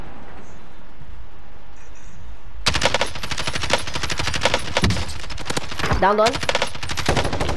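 Close, loud automatic gunfire rattles in rapid bursts in a multiplayer shooter game after a quiet start, with a player's voice briefly over the shots.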